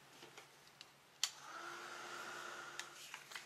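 A heat tool blowing steadily on a distressed paper tag, a sharp click and then a constant whirring drone for a couple of seconds, fairly close and quiet, with small ticks around it.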